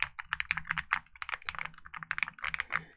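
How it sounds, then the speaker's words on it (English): Rapid clattering keystrokes on a mechanical keyboard with soft, papery-textured, stabilized keys, a dense fast burst of close clicks and thocks with no talking. "there's my keyboard spam for you guys"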